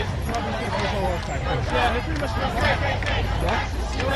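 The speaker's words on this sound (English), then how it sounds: "I just turned the crowd down a little bit." A protest crowd outside Trump Tower in New York City, a dense murmur of many voices and shouts held at a lowered, steady level with no pauses.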